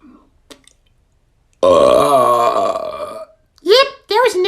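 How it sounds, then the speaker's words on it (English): A long, loud burp from the Elmo character runs for about one and a half seconds, followed by brief bursts of a lively talking voice. "Yep, that was a nice burp."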